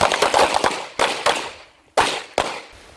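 Handgun shots at an outdoor shooting range during a carry training class: four sharp, loud reports in fairly quick succession, each followed by a short fading echo.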